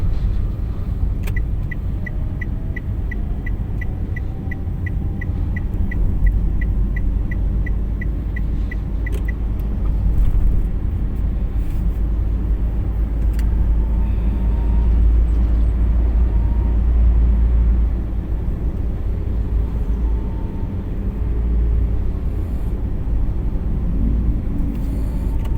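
A car drives along a road, its engine and tyres making a steady low rumble throughout, with a series of light ticking sounds early on.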